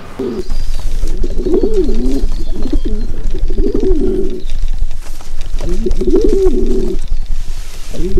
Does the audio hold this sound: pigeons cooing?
yes